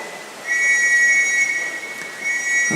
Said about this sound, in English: there's our first whistles of the day